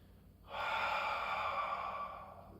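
A single steady exhale during a Pilates mobility exercise, close-miked and breathy, sustained for about two seconds out of near silence.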